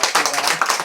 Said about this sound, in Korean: 우리 박수 한번 해주십시오